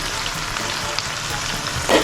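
Spice paste of ground chilli, cumin and sugar sizzling in a pan for Bengali katla fish curry, a dense continuous fry with a spoon stirring through it and a brief scrape at the end.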